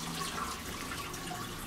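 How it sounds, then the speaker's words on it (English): Water rushes and gurgles in a steady, moderately loud wash as a vintage toilet in an old washroom of a historic building flushes, with no talking over it. "Let's flush the toilet."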